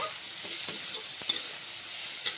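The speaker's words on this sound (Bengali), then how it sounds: "তো এখন তেলে একটু মশলাগুলোকে ভালো করে ভেজে নেব।" Whole spices frying in oil and being stirred, a steady sizzle broken by several sharp clicks and scrapes of the spoon against the pan.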